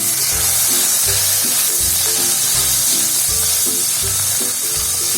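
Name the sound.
garlic, ginger and green chillies frying in oil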